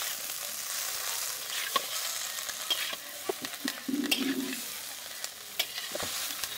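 Egg chowmein with tomato sauce is tossed and stirred in a hot pan, with irregular scraping clatters over a soft, constant frying hiss.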